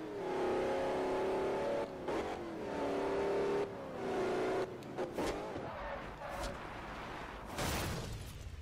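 A SWAT-style van from Forza Horizon 2 revs hard, its engine note rising and falling through repeated downshifts with whooshing bursts, fairly quiet and without talk.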